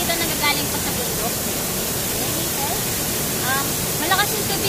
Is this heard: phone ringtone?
no